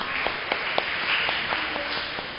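A church congregation at a UCCP opening worship applauds a pastor: a short run of scattered, fairly evenly spaced claps over a low, hushed room murmur, soft and somewhat distant.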